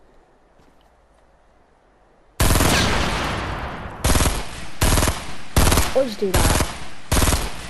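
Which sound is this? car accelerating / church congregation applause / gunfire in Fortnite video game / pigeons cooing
gunfire in Fortnite video game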